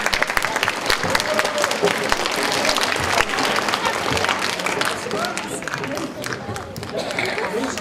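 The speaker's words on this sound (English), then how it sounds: "good round of applause" Steady applause fills a school morning assembly at an elementary school, many children clapping together at close range, with voices talking and calling out over the clapping throughout.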